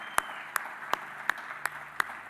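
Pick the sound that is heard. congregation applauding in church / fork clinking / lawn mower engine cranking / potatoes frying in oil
congregation applauding in church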